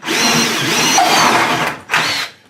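A power drill fitted with a pilot bit bores a hole during cowl refurbishment on a Piper Super Cub, whining steadily at close range for nearly two seconds, then briefly stopping before a second short burst.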